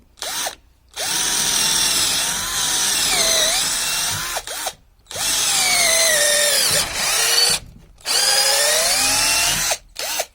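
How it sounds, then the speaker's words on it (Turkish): A JCB Pro Plus 36V cordless hammer drill bores into wet oak in three loud, sustained bursts of whining motor and grinding wood, with the pitch sagging under load and short silent pauses between passes. "Bu da meşe ağacı. Yaş meşe bu arada. E, delmesi daha zor diye tahmin ediyorum."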